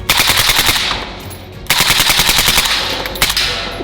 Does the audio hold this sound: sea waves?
no